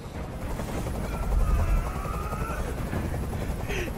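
A helicopter hovers nearby in the video game Detroit: Become Human, its rotor making a continuous thudding rumble with a constant loud drone.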